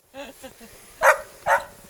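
Sled dogs bark in a snowy Lapland setting, a few sharp close barks in a quick pair after softer yelps, with a voice briefly heard.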